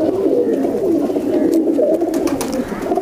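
Low flyer pigeons (kabootar) coo steadily up close in a loft in Pakistan, a soft continuous rolling murmur with faint flutter and rustle.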